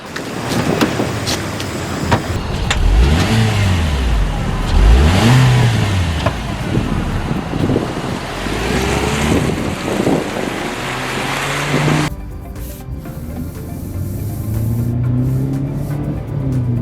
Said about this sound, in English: The Spark's acceleration is okay. I didn't push it hard since most owners who own this won't.